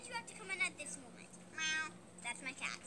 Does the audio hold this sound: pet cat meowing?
yes